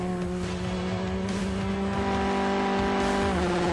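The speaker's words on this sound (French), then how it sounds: "Robert Barrable, l'Irlandais roule avec une Ford Fiesta R5 et il visera le podium" A Ford Fiesta R5 rally car drives a bumpy, abrasive stage at the Circuit of Ireland rally, its engine holding a loud, steady drone with slight pitch shifts and a brief tire noise near the end.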